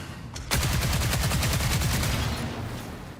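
Rapid automatic gunfire in the video game Marathon, a sustained burst of about twenty close, loud shots in quick even rhythm after a brief silence, tailing off at the end.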